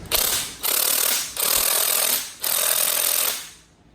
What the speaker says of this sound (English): Now I take an impact. Now the tops of these takes a 3/4 inch socket.